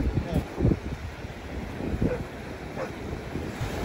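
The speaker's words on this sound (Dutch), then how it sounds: "Het water trekt terug." Waves wash back down a sandy North Sea beach at Castricum in the Netherlands under strong wind, with steady blustery rumble and microphone buffeting, a few louder gusts standing out.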